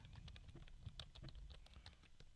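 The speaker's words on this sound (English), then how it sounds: "The keys are actually pretty quiet." Quiet typing on a KG812 wireless ergonomic wave keyboard gives a rapid, irregular patter of soft key clicks, close by and alone, with an occasional heavier thump.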